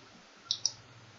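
Two crisp computer mouse clicks in quick succession, close and clear against a quiet background, made while selecting lights on a Corsair Strafe RGB keyboard.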